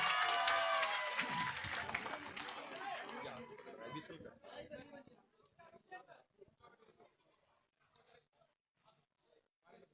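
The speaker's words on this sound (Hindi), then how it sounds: "देवेंद्र कादन जी जोरदार तालियों के साथ अपने बेटे अपने भाई का हौसला बढ़ाएं" A crowd at a village gathering in Rajpur applauds loudly, with the clapping fading into scattered claps and chatter as a voice talks over it.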